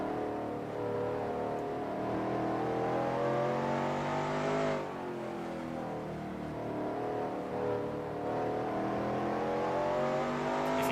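Race cars in a driving video game roaring through corners, a continuous engine drone with harmonic revs that rise, drop sharply near the middle, then climb again, fairly loud and alone.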